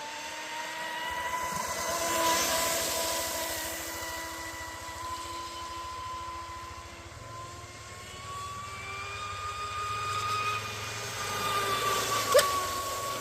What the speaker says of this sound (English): Even at like 1/3 throttle, it's running a lot drier.